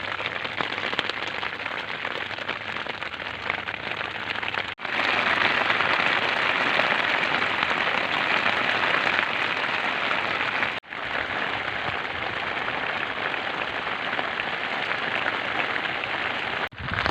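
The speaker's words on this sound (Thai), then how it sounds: "วันนี้ฝนตกหนักๆครับ" Heavy rain pouring down at a flooding fishing spot, a dense steady hiss throughout with two brief dips, no talk.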